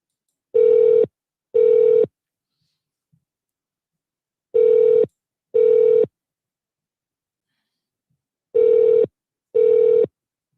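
A telephone call rings out unanswered, three pairs of double rings with silent gaps between them, clear and steady with no voices.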